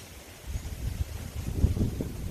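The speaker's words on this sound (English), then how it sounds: "And a lot of wind." Wind blowing outdoors on a blustery day after thunderstorms, a low rushing rumble with gusts that swell and buffet the microphone, with no talk.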